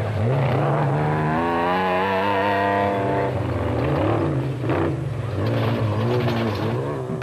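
Race cars compete in the 2007 Sun City 400, with a loud engine note rising through the gears and then falling as it passes close by. Engine noise continues under a commentary voice.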